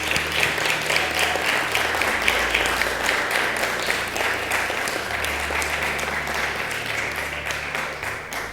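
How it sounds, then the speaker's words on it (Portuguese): A church congregation at a conference applauds together, dense sustained clapping that holds steady and loud throughout without letting up. "Vamos dar um aplauso."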